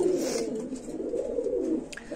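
Satin pigeon cooing close by in a low, rolling, continuous call that holds steady for about two seconds, with no other sounds around it.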